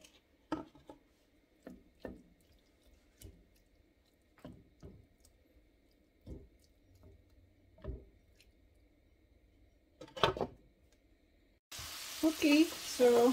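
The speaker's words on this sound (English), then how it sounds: "So we'll just try to fry them." Chicken drumettes seasoned with salt, pepper and garlic frying in a pan for paella: soft, intermittent sizzle and occasional clicks of turning, fairly faint, then a louder burst of sizzling at the end.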